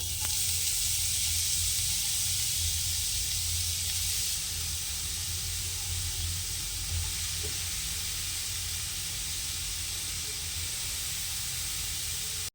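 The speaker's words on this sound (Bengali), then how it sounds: "ঘিয়ের সাথে বিটগুলোকে ভালোভাবে ভেজে নিচ্ছি" Grated beetroot sizzles in hot ghee for beetroot halwa, a loud, steady, hissing fry that runs unbroken throughout, with no voices.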